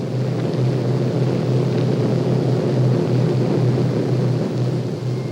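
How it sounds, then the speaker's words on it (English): A low-flying 1944 reconnaissance plane drones overhead with a steady, loud engine hum and rumble that holds without a break, with no voices. "On the return trip, the planes pass over Mogong village, still flying at low altitude."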